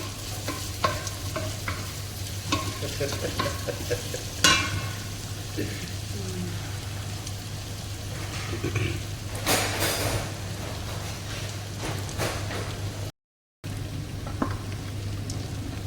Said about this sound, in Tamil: நல்லா கிண்டி விட்டுட்டே இருக்காப்புல, கேட்டிங்களா?